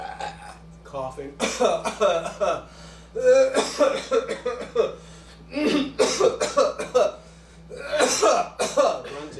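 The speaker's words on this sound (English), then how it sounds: "Coughing." A person coughs repeatedly as a vocal tic in a live stage play, in close, loud bursts, with harsh throat-clearing sounds grouped into several clusters.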